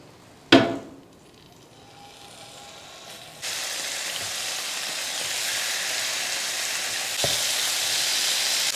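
Chicken slices sizzle and fry in oil in a well-heated pan, a sharp clatter as pieces drop in, then a steady broadband crackle that swells louder partway through and keeps hissing with another brief thump near the end.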